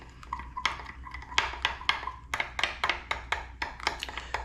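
Spoon working through thick, gooey crepe filling in a bowl, giving repeated scraping and clinking strokes at a steady rhythm, close and fairly loud, with no talk.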